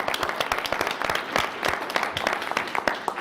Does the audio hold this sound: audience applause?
yes